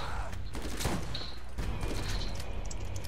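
Rapid gunfire rattles in the Borderlands video game during a co-op match, a dense, loud stream of shots and impacts layered with game effects, while a player talks over the action.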